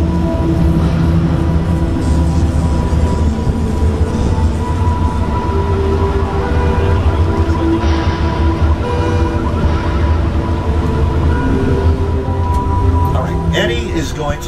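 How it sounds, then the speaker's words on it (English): A Universal Studios tour tram rolls along, giving a constant loud rumble and road drone, with a voice speaking over it throughout. "Going to stop the tram for 1 minute."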